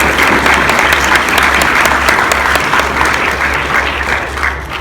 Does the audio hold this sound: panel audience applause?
yes